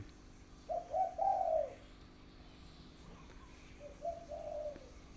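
A dove coos in two short bursts a few seconds apart, soft and somewhat distant over a low outdoor hum.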